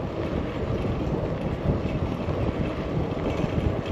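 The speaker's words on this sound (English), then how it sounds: "it's windy" Wind gusting along an outdoor rail trail by the water, a dense, steady low roar buffeting the microphone throughout, with no voices.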